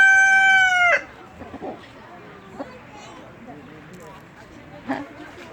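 A rooster at a petting farm gives one loud, clear crow lasting about a second, followed by quiet barnyard rustling and a few faint clucks, with people talking nearby.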